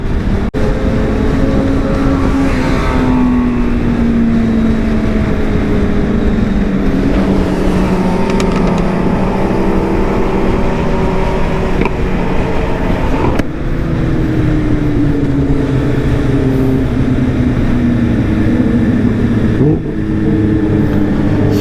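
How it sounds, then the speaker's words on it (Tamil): A Lamborghini supercar drives past on the road. It makes a loud, sustained engine roar with pitch sweeps as it accelerates, and it stays close and steady for the whole stretch with no talk over it. "கூட ஒரு லாம்பர்கினி போது பாருங்க."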